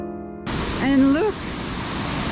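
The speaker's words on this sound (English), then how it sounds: "apparently there's private access to a waterfall from here" A waterfall at a caravan park near Malanda heard as a steady broadband rush of falling water that starts abruptly and continues evenly, with a person briefly talking over it.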